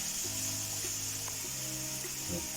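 Onions fry in a pan with a soft, steady sizzle that stays fairly quiet and even for a couple of seconds over a faint background hum.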